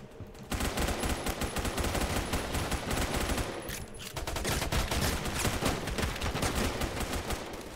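Rapid automatic gunfire from the Roblox shooter game Phantom Forces, loud and nearly continuous with overlapping bursts, briefly thinning for a moment before the dense shooting resumes.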